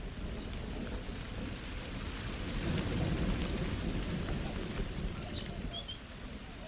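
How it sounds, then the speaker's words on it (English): Rain and thunder sweep over the Mojave desert: a steady rush of rainfall under deep, rolling thunder that swells near the middle and stays loud throughout, with a faint bird call near the end. "Rain, when it sweeps over the Mojave, is brief and violent."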